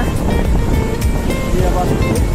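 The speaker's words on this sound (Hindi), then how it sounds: "तो लहरें काफी तेज उठ रही हैं" Strong ocean waves on a Chennai beach surge and wash in a constant loud roar, with wind buffeting the microphone and a voice talking over it.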